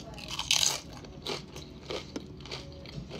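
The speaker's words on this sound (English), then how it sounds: "first bite. Spicy nacho cheese Doritos." A loud, close crunching bite into spicy nacho cheese Doritos chips, followed by several softer crackling chews over about three seconds, with no talking.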